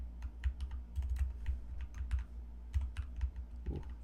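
Rapid typing on a computer keyboard during coding, a steady run of close, crisp key clicks with brief pauses, no voices.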